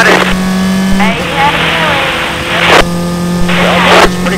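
A high-pitched SCCA race car engine screams steadily and climbs through gears as it accelerates down the straightaway at Mid-Ohio, loud and close, with commentary voices running underneath.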